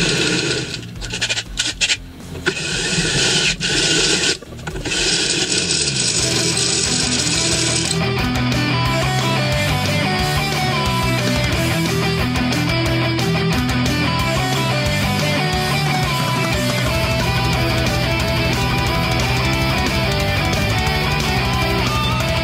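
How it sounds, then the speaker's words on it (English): A step drill bit cutting through metal for a custom motorcycle tank mount, a loud, steady grinding whine that runs continuously after a few brief starting bursts, no voices. "Step drill bit."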